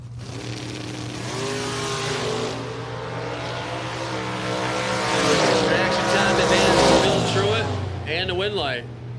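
A Camaro drag car engine at a drag racing event drones and rises in pitch, growing louder over several seconds, while an announcer talks over it throughout.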